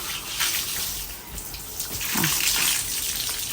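Water pours and splashes steadily in a home garden in Germany, where a child plays by pouring it over herself, with a continuous close splashing and trickling flow.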